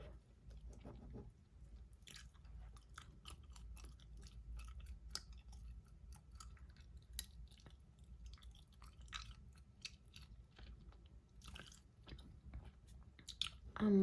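Gum chewed close to a microphone, with steady soft wet smacking and squishing clicks throughout, quiet and intimate, with no talk over it.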